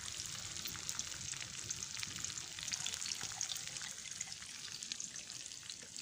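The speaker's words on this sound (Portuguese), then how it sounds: "Vamos escutar o barulho dos ovos," Steady, crackling sizzle of eggs frying in a pan at a campsite, close up and continuous, with no voices.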